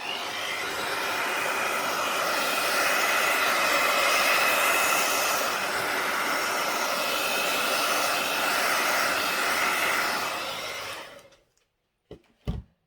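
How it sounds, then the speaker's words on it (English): A hair dryer blows steadily at close range for about eleven seconds, used to spread acrylic pour paint, a loud broadband whoosh, then cuts off, followed by a couple of soft clicks. "get the blow dryer and spread that out."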